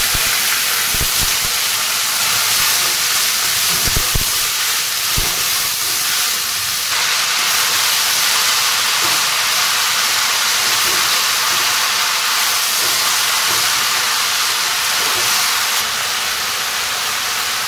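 Loud, steady hissing sizzle of kalmi shak (water spinach) in hot oil, with a few dull knocks early on, continuing without a break and no voices.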